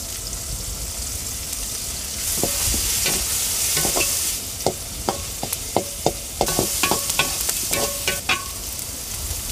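Onions, tomatoes and curry leaves being stir-fried in a pan make a continuous sizzle, with a run of sharp spoon clinks and scrapes starting partway through and growing busier, close and moderately loud, with no voices.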